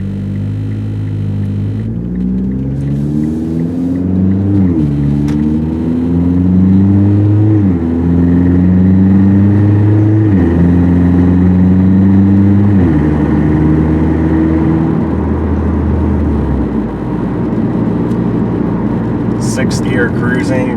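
A 2009-up Mitsubishi Lancer Ralliart with a DC Sports single exit exhaust drives along, its engine droning in a steady low hum that steps through gear changes before settling into a cruise, heard loud from inside the car.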